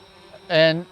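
An RC drone flies close by, its rotors giving a sharp, insect-like buzzing whine that swells suddenly to full loudness for about a third of a second, then drops away and begins to rise again.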